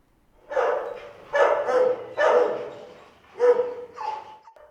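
Police drug-sniffing dogs bark during training, five or six sharp, loud barks in uneven bursts close by, with a short whine near the end and no talking.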